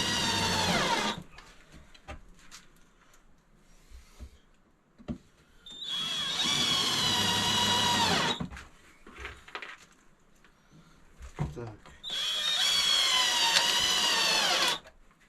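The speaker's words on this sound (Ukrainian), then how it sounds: "саморезами закручую, сажу на два самореза" A power drill drives self-tapping screws into wood, two screws per side, in three loud sustained whirring bursts separated by quieter handling noises.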